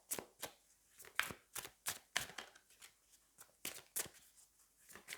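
Tarot cards from a deck are handled and drawn in a string of soft, quick card snaps and flicks, close and faint with an uneven rhythm.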